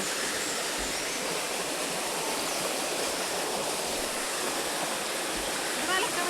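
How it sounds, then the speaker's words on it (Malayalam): Steady, full rushing water fills the whole clip, a constant broadband roar like a fast-flowing stream with no pauses. "ആ വെള്ളത്തിൻ്റെ ശബ്ദം കൊണ്ട് കേൾക്കുമെന്ന് അറിയില്ല"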